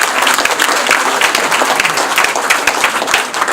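Audience clapping at a regional election campaign event, close and fairly loud, with dense overlapping claps sustained for several seconds.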